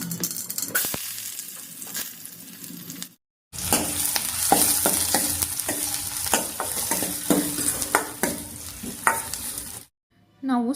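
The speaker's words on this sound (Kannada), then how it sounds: "ಒಂದು ಬಾಣಲಿಗೆ ಒಂದು ಸ್ವಲ್ಪ ಎಣ್ಣೆ ಮತ್ತು ಸಾಸಿವೆನ ಸೇರಿಸ್ಕೊಂಡಿದ್ದೀನಿ." Mustard seeds sizzle and crackle in hot oil in a pan for tempering, a loud continuous fry dotted with popping clicks and stirring, briefly cut off twice.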